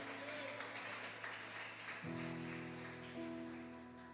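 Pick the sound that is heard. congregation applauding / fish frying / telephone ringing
congregation applauding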